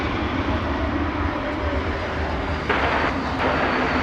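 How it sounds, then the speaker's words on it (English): Frontier Airbus A321-200 airliner at DFW Airport at night, a steady loud broadband jet engine roar that holds throughout with a slight swell near the end, no talking. "That Frontier plane with Mitch the Wolverine on the tail We'll be going to Phoenix. It's an Airbus"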